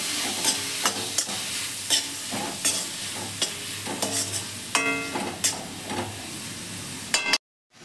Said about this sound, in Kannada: ಕ್ಯಾಪ್ಸಿಕಮ್ ಹಾಕೋತಾ ಇದ್ದೀನಿ. ಕ್ಯಾಪ್ಸಿಕಮ್ ಅಷ್ಟೇ, ತುಂಬ ಬೇಯಬಾರ್ದು,